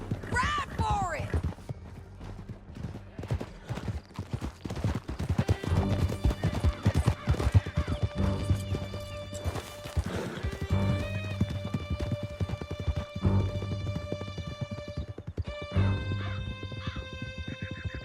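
Horses gallop on horseback in the Red Dead Redemption 2 video game, with steady, close clip-clop hoofbeats running throughout over a sustained musical score, and a brief voice near the start.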